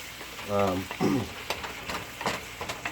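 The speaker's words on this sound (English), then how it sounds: "You want that sizzle at the bottom." Chicken sizzles and crackles steadily in oil in a pan, with brief stirring clatters and a short voice early on.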